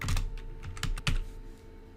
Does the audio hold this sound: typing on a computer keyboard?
yes